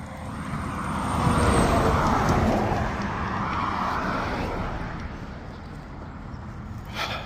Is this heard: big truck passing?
yes